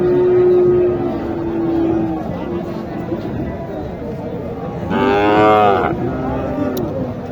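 Sahiwal-cross cattle at a village cattle market in Naogaon, one loud, close, drawn-out moo rising over crowd chatter and market noise, with a second moo partway through while people talk nearby.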